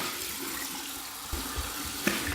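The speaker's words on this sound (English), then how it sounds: "Okay, let's go with a cold water rinse." Cold water runs steadily from a bathroom tap for a rinse after shaving, a continuous close hiss with a few soft splashes and knocks.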